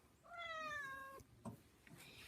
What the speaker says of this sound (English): He meows so loud.